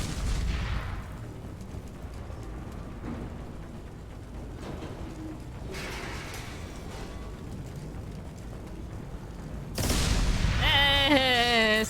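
Explosions and gunfire in Mass Effect 2 hit as heavy booms and sharp bursts over a rumbling game soundscape, with a loud blast and ringing tones near the end.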